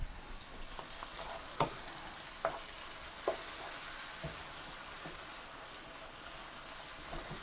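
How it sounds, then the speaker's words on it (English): Pork tenderloin browning in a pan gives a quiet, steady sizzle and crackle throughout, broken by a few sharp clicks and scrapes of stirring, with no voices. "So this is cooking nicely. We need to brown the meat."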